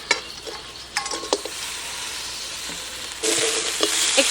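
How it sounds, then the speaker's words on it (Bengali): Fried boal fish pieces drop into sizzling spice masala in a pan and get stirred, a steady frying hiss with clinks and scrapes of the spatula, the sizzle growing louder near the end; no talking. "এবার ভেজে রাখা মাছগুলো দিয়ে দিচ্ছি"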